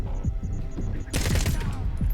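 In S.T.A.L.K.E.R. 2, a sudden loud burst of rapid gunfire erupts after a second of low humming quiet and rattles on to the end, close and harsh.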